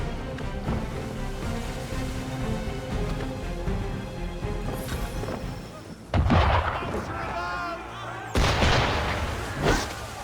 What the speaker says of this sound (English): Why is he shooting at us?